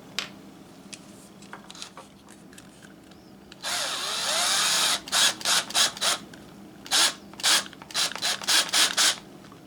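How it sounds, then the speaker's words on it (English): A power drill bores a hole in PVC pipe: one sustained whirring run, then a series of short, evenly spaced bursts as the bit is pulsed, loud and close. "Now we need a hole in our PVC right there for this wire to go down inside."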